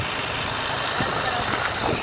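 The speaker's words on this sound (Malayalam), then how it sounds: "ഒരു ഫോർട്ടി എച്ച് പിയുടെ ജോൺ ഡിയർ ട്രാക്ടറാണ്" A John Deere 40 HP tractor engine idles close by with a steady, even rumble that holds without pause.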